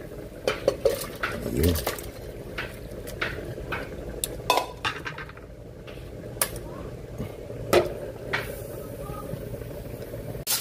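Sautéed chicken is shifted into another container, with metal utensils scraping and clinking against a pot in scattered bursts and a voice speaking briefly.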